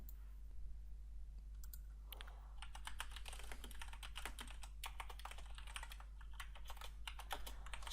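Quiet computer keyboard typing in a room with a low steady hum, a few taps at first, then a run of rapid keystrokes and clicks.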